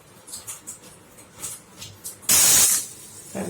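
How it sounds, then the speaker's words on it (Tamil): Pressure cooker whistle sounding while vegetable biryani cooks: a loud, sustained hissing burst of steam about a second long, set against quieter intermittent hissing and bubbling before it. "1 விசில் வந்துடுச்சு."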